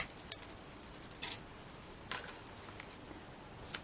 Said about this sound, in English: So I'm just going to snip that out.